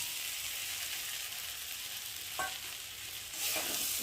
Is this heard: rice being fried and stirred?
yes